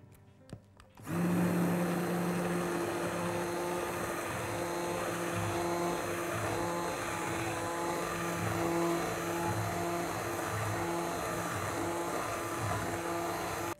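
A kitchen blender purées lentil and quinoa soup, starting with a sharp switch-on after a second of quiet and then running as a loud, steady motor whir with churning liquid, no voices.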